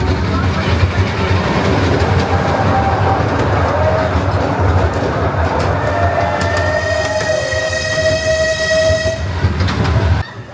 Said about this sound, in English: a short but delightful train ride here at Hersheypark